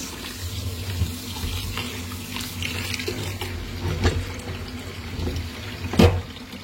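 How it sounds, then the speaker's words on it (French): Couscous rinsed in a sink under a running tap, a continuous close gush of water with small splashes and a brief louder splash near the end, no talking. "Je vais le rincer dans l'eau."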